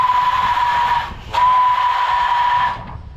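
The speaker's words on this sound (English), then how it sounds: "You'll see some steam coming out of there, and the whistle will sound." Steam whistle on an 1897 Sisson steam engine boat gives a loud, steady, piercing blast, then a short break and a second long blast, with steam hissing under and after it.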